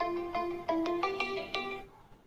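A mobile phone ringtone plays a bright, quick melodic run of chiming notes, close and clear, then cuts off into quiet.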